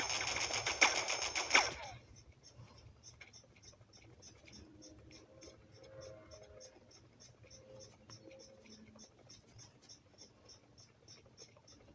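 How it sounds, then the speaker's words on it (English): Burst of rapid machine-gun fire during a police helicopter chase scene in the film Spiderman (2000), loud for about two seconds, then fading into low rumbling background with faint distant sounds. "Enough with the shooting already."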